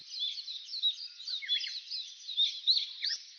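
Small birds, sparrows among them, chirp and twitter continuously in a quiet village under a cloudy sky, thin high calls fairly faint and unaccompanied.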